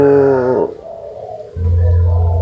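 White backspot turtledove, a colour mutation of the spotted dove, cooing in close, loud drawn-out tonal notes, a low mellow coo rising and falling with a brief gap before the final sustained call.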